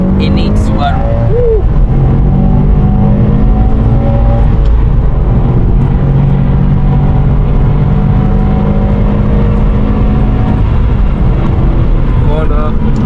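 A Subaru RA-R engine revs hard and steadily as the driver downshifts into a corner, loud and close with a constant rumble throughout and no break in the sound.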